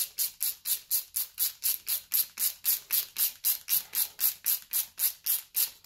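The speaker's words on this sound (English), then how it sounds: "then we can go and thread the new stud in" New exhaust manifold stud, held by two jammed nuts, being threaded in with a ratchet: a rapid, even series of about twenty squeaky metallic clicks, close and alone.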